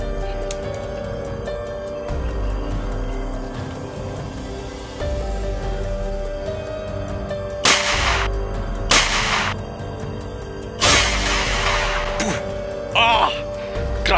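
A homemade boga, or lantaka, bamboo-style cannon fires point-blank at plastic, giving several loud, abrupt bursting blasts spaced a second or two apart over a constant background hum.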